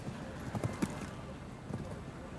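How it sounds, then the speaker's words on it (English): Horse hooves clip-clop on the course at an FEI European show jumping championship in Donaueschingen, Germany: a few soft, uneven thuds partly buried under a commentator's voice and arena ambience. "Helena Lundbach, with her little horse, Utforsminter, remember"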